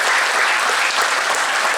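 Dense crowd applause rises from an audience at a Balinese Cupak performance during an arts festival in Gianyar, Bali, a loud continuous roar of many clapping hands with no break.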